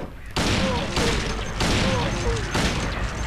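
Heavy gunfire in the video game Silent Hill 2 Director's Cut booms in repeated bursts, about four loud blasts spaced roughly evenly over a few seconds, close and dense.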